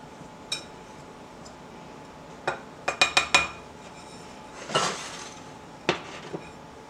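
Dry ingredients, including salt and baking powder, being blended in a bowl for coffee cake: a handful of sharp utensil clinks and taps against the bowl, clustered in quick bursts with pauses between, fairly quiet and with no talking.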